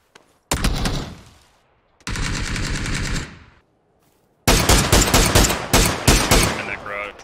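Automatic gunfire in PUBG: three loud bursts, the first two sustained sprays and the last a rapid string of sharp cracks, separated by short silences.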